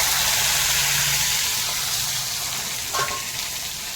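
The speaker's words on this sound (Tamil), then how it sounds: "இப்போ தேவையான அளவு வெங்காயம் போட்டுருவோம்." Onions hitting hot oil already crackling with cumin seeds and curry leaves, a steady broad sizzle that stays loud and constant throughout, with a faint scrape near the end and no talking.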